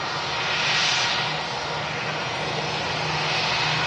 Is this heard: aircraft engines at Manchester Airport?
yes